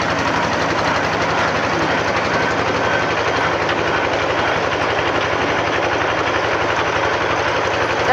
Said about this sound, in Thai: การเจาะบาดาลต้องใส่น้ำ